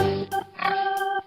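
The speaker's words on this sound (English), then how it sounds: "Pig." A toy or cartoon pig oinks in a few short, nasal grunting bursts at close range, with no talk over it.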